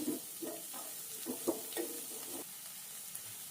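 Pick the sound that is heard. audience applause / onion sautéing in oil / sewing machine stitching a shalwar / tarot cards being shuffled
onion sautéing in oil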